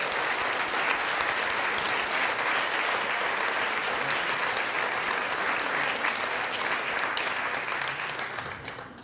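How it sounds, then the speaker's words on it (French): A gala audience at an entrepreneurship awards night gives the entrepreneurs sustained, dense applause, a full room clapping evenly for about nine seconds before it begins to fade at the end. "je vous demanderai une bonne main d'applaudissements à tout ce monde-là"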